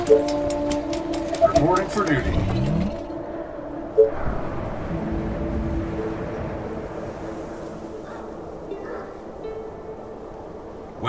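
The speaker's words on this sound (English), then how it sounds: "The train has arrived at the station." A train pulls into a station in the strategy game They Are Billions, its rumbling, clanking approach sitting under game voice lines and unit chatter. A sharp clank lands near the start and another partway through.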